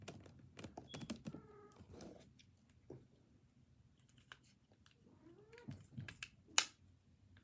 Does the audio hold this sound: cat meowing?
yes